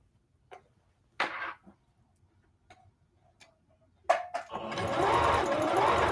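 A few quiet taps and short bursts give way to a domestic sewing machine running steadily near the end, stitching around a pocket on a skirt being turned into palazzo pants; close and moderately loud.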